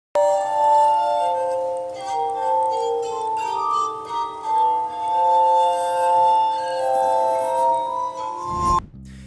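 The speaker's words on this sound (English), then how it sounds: "The glass harmonica consists of a series of glass bowls in different sizes, and the sound is produced by the player rubbing their fingers over the glass." A glass harmonica, a set of graded glass bowls sounded by fingers rubbing the rims, sings sustained, shimmering pure tones that overlap and shift in pitch, loud and unaccompanied, before a brief thump near the end.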